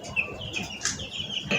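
Poultry chickens on a farm let out faint, brief chirps and soft clucks in a quiet setting, with a few short calls scattered over a low background.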